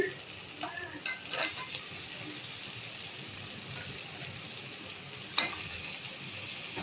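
Chopped carrots and beans sizzle softly in a pan for a vegetable biryani while a utensil stirs them, making scattered scrapes and a sharper clink near the end.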